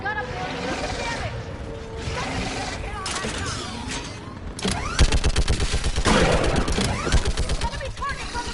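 A mounted gun fires in the sci-fi shooter Mass Effect, rapid mechanical bursts that swell into a loud sustained volley in the second half, mixed with clanking and battle noise.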